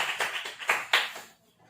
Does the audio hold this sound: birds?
no